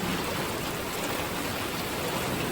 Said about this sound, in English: now it is raining good and hailing